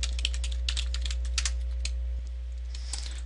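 Quick clusters of keystrokes on a computer keyboard as a short name is typed, crisp and close, followed by a brief quiet pause and a few final taps, with no talking.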